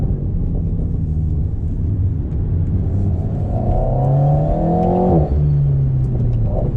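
A 2019 Alpine A110 Premiere in race mode accelerates hard from inside the cabin, its engine note climbing steadily through a gear, dropping sharply at a shift, then pulling up again, loud and continuous.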